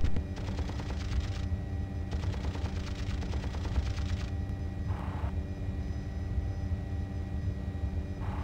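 Apache attack helicopter cannon firing on ground troops in a combat video game, two bursts of rapid-fire shots over a steady rotor and engine drone, followed by only the continuous helicopter hum.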